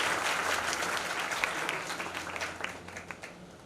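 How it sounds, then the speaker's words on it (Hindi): A crowd at a Bihar police constable selection honour ceremony in Gopalganj gives a warm round of steady clapping to welcome the chief guest, tapering slightly toward the end. "जोरदार ताली से स्वागत हो।"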